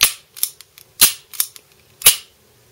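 Sharp mechanical clicks from a Taurus PT111 Millennium Pro 9mm pistol's trigger and action, four loud, crisp snaps spaced about half a second apart with fainter clicks between, close up and without voices.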